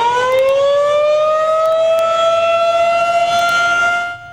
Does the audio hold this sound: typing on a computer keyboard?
no